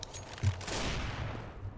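Gunfire in the video game CS:GO during an AWP sniper rifle mission: a sharp shot followed by a sustained noisy, rumbling burst of game combat sound, fairly loud with no talk.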